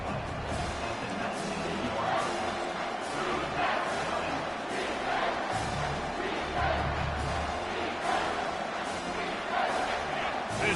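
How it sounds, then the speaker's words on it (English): A football stadium crowd rising to a sustained, swelling roar of cheering, loud and continuous, with a game commentator talking over it. "This crowd rising up, sensing that its defense needs some help"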